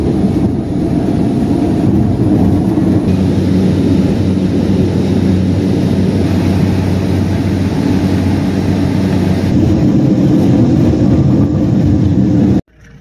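Aircraft engine drone from a plane on a Kenya–Tanzania safari route, a loud, steady, continuous roar filling nearly the whole span close by, cutting off abruptly just before the end.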